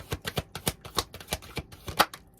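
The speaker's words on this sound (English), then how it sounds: "I'm going to go ahead and begin my shuffle" A deck of tarot cards riffled and shuffled in quick repeated bursts, close up, with crisp flicking pulses and no talking.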